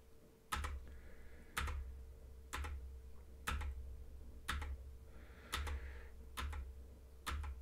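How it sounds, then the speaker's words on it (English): Up and down arrow keys on a computer keyboard, pressed one at a time: eight crisp, separate clicks at a steady, unhurried pace, close and isolated in a quiet room. "you can use the up and down keys on your keyboard to cycle through"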